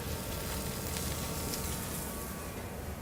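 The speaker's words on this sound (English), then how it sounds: "so we're about to cook the bass" Bass fillets searing in a smoking-hot pan with only a little oil on the fish: a dense, steady sizzling hiss, close and even throughout, with no talking.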